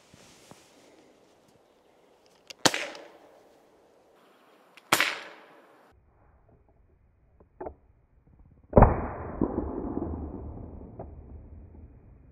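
A JPX non-lethal bear defense launcher fired outdoors in a light wind, giving several loud, sharp bangs a few seconds apart with a fainter pop between them, and the last bang trailing into a rushing hiss.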